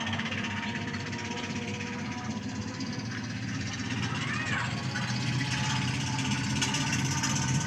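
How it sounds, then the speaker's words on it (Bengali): A trawler boat motors along the Turag river, its engine a steady, unbroken low drone heard from a moderate distance, holding even loudness throughout. "এটা নৌকা যাচ্ছে, নৌকা বলতে এটা ট্রলার।"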